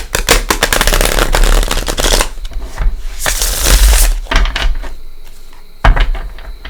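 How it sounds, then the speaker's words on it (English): A deck of tarot cards is shuffled by hand up close, giving dense riffling and flapping bursts that pause and resume, with a sharp snap near the end and no talking. "They're already shuffled, but we'll give them another shuffle."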